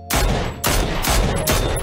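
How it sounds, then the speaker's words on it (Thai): Bursts of automatic gunfire in PUBG, a solo match in a desert map, with four loud, close volleys of rapid shots separated by brief gaps, and no talking. "ยิงกันแล้วครับ"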